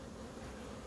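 Honeybees buzz around a beehive super, a continuous faint dense drone with no breaks and no voices.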